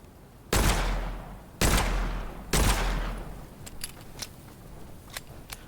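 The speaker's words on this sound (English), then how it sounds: "You see a red barrel, you shoot it, it goes kaboom." Gunfire in the Witchfire FPS video game, including a red barrel shot until it explodes: three loud close blasts with long decaying tails, then a run of lighter sharp clicks and pops.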